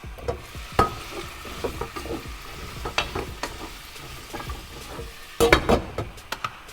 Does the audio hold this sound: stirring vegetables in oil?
yes